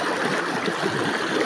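River water on a rural crossing in Alfonso Castañeda, Nueva Vizcaya, rushes as a steady, broad, close wash with no other sounds.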